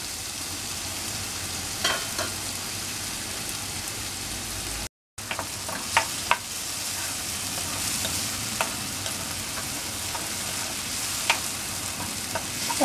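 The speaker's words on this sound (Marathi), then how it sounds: "टोमॅटो व्यवस्थित परतून झाले" Tomatoes sauté with spices in a pan for Marathi phodnicha bhaat, a continuous soft sizzle with scattered sharp taps and scrapes of stirring nearby. The sound drops out for a moment midway, and no one speaks.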